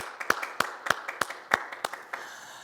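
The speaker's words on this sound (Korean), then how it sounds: "다시 한번 박수로 영광 돌리겠습니다" Congregation clapping at a church worship service, about a dozen sharp, fairly quiet claps at a steady beat, close and distinct in a resonant room, with no talking.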